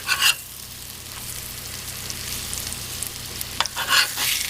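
Potato patties fry in lard in a pan on an electric stove, giving a steady close sizzle with brief louder crackles and scraping near the start and end, when the patties are flipped.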